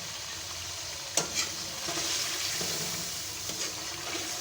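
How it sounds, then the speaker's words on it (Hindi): Pieces of gourd frying in a spiced masala in a pan, with a soft continuous sizzle and a few sharp scrapes and clinks of stirring, close by and fairly quiet. "थोड़ा सा मसाले में हम इसे भी भूनेंगे।"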